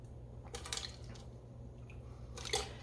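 Boiled shrimp rinsed by hand in their cooking water, a few soft wet squishes and drips against a low steady hum, quiet and close, no voices.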